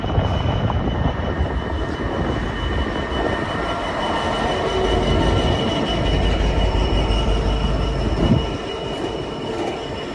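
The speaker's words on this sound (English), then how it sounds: "terminating down the other end is a Great Western Railway service off of Oxford" A Great Western Railway train runs through Oxford with a steady, loud rumble of wheels and carriages and a faint high squeal from the rails, nearby and continuous with no voices, then a small bump near the end.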